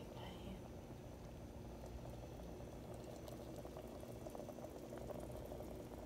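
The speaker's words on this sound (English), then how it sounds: "I'm just waiting on the stew to dry down." Stew bubbling in a pot on a home stove, a soft continuous simmer of small pops and gurgles, quiet and even from start to end.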